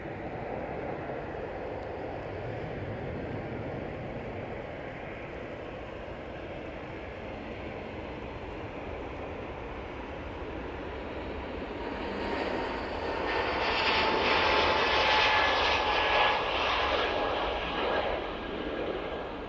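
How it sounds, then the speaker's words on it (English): An EasyJet Airbus A320neo bound for Lanzarote rolls for takeoff at Manchester Airport, a distant steady jet roar that swells and brightens toward the end, heard alone without talk. "EasyJet, off to Lanzarote now on the roll,"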